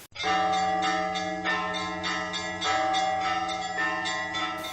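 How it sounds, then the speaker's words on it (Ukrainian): Memorial bells ring loud and close, with a steady sustained tone and repeated strikes layered over it. No voices are heard. "Це дзвони пробудження пам'яті, яка не повинна ніколи згасати."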